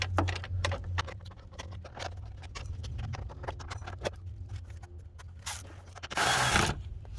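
A ratchet snugs a bolt on a Ford F250 6.7L diesel fuel filter housing, a rapid series of close, sharp clicks in uneven bursts, followed near the end by a few short metallic rasps.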